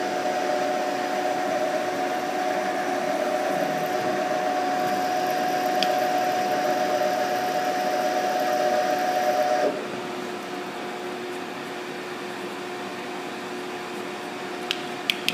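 A CNC machine drilling with a number 5 center drill gives a steady whine and motor hum, then drops to a lower, quieter drone partway through, with a few faint clicks near the end.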